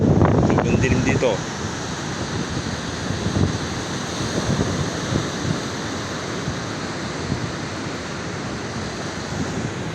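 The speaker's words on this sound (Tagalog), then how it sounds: "Yun na, yung tubig dagat." Sea waves wash in the dark along the shore at Dingalan, Aurora, a loud, continuous roar of surf with gusty wind buffeting the microphone; a brief voice speaks at the start.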